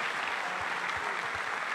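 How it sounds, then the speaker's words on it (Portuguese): A church congregation at a sermon bursts into a short, steady burst of applause, a continuous wash of many hands clapping at moderate volume with no talking over it. "Alguém aplauda Jesus?"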